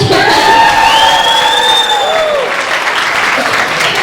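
Comedy club crowd at the Houston Improv clapping and cheering loudly, with whoops and shouts over steady applause and a voice briefly calling out early on.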